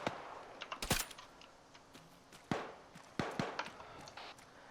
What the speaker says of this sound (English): It feels like my weapon is firing blanks